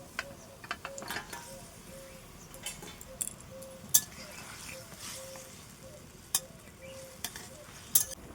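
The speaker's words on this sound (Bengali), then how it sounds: "ঝোলটা ভালো মতন ফুটে গেছে, এখন মাছগুলোকে দিয়ে দিচ্ছি।" Katla fish pieces go into a boiling, bubbling curry gravy. A quiet, steady sizzle runs under scattered metallic clinks and taps of a utensil against the pot.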